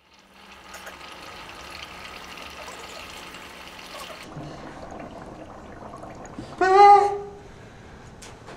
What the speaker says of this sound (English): I just put in a little bit more water